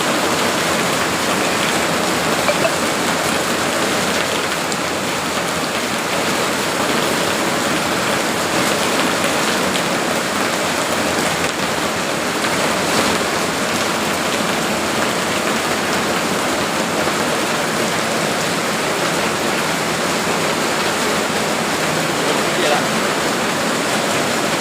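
Heavy rain pours down steadily over a rural village in northeastern Thailand during a storm, a dense continuous hiss of drops on surfaces and running water throughout, with a voice speaking briefly over it.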